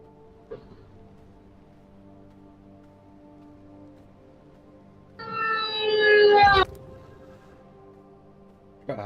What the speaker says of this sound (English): That was a fire truck, wasn't it?